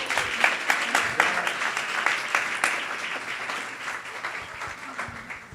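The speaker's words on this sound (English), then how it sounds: "Let's give them a round of applause." An audience at a Vyasa Puja celebration applauds two performers from the UK, with steady clapping that holds for several seconds before slowly thinning out. No talking is heard.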